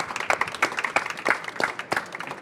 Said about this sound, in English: Well, that also deserves a big round of applause.